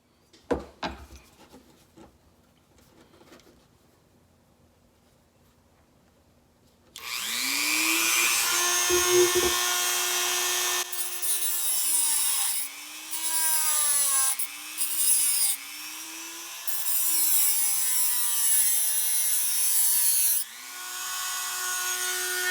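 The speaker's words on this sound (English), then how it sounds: "Gotta find my Dremel." A Dremel rotary tool grinds on a vintage Scout lock: a few faint handling clicks, then a loud, close, high whine starts and runs continuously, its pitch dipping and recovering as the bit bears down.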